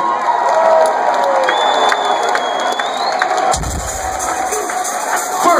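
A crowd at a metal concert in Los Angeles cheers, whoops and yells in a dense, loud, continuous roar, with a high whistle cutting through partway.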